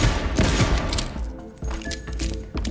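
Rapid gunfire in the futuristic shooter Cyberpunk 2077: a loud, close volley of fast shots with booming low thuds, a brief lull, then more bursts toward the end.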